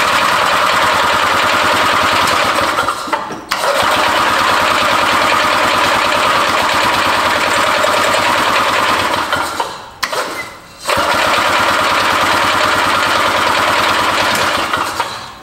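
Barn-find Harley Davidson golf cart engine spinning over, a loud, continuous rhythmic churning drone close up, broken by two brief pauses.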